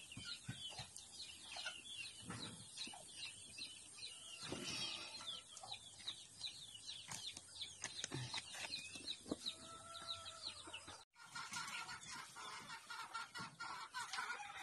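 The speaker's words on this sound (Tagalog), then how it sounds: "Dagko lagi na mga manuka boy na. Dagko. Kadaghan sa manok nila." Chickens clucking nearby in a rural yard, a busy chorus of repeated clucks and squawks with some wing flapping, steady and close, with no talk.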